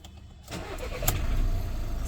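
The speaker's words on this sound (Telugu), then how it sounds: "సింగిల్ సెల్ఫ్ ఇంజన్ స్టార్ట్ అయిపోయిందండి" A 2015 Volkswagen Vento Highline diesel with automatic transmission starts on a single crank, the starter catching quickly and the engine settling into a loud, steady close-up idle.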